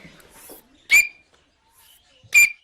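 A student's voice imitates an Australian bellbird with two loud, sharp, ringing whistled notes about a second and a half apart, separated by quiet gaps and soft breathy sounds.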